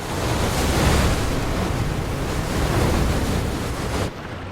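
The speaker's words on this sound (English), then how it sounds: "After a relentless pounding from 6 successive waves, Ken eventually escapes in one piece." Ocean waves crash and roar in a continuous loud wash of surf, mixed with wind buffeting the microphone, cutting off abruptly near the end.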